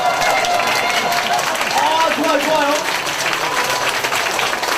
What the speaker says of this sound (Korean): 그리고 옆에 있는 분에게 한번 축하한다고 박수 한번 드릴게요.